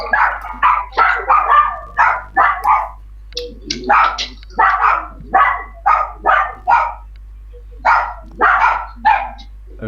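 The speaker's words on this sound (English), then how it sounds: "Someone has a very noisy dog." A noisy dog barks in rapid, repeated bursts, around twenty yips and barks in ten seconds, close and loud over a low electrical hum.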